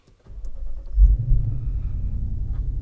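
A 2010 Lexus IS F V8 engine cranks and catches with a deep low rumble, then settles into a steady, throaty idle, close and fairly loud with no talk.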